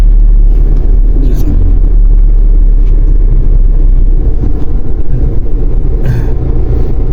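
A car driving on a road and moving to overtake gives a loud, steady engine and tyre rumble heard from inside, continuous throughout with faint higher noise bursts.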